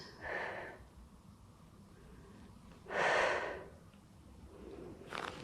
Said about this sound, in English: breathe out, lift.